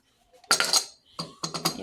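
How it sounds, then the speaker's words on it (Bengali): Metal lid being set back onto a cooking pot, a close clattering clink followed by a few lighter rattling taps as it settles. "এখন আমি আবার ঢাকনাটা ঢেকে দেব"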